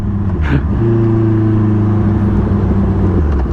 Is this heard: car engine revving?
yes